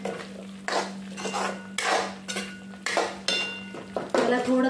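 Onion and potatoes sautéed in a pan, stirred in steady repeated strokes, with a metal utensil scraping and clinking against the pan over a soft sizzle and a low steady hum.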